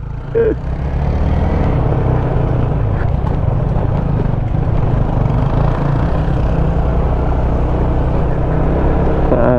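A Yamaha NMAX 155 scooter engine drones steadily and loudly as it climbs an uphill mountain trail, a continuous close low hum with no pauses throughout.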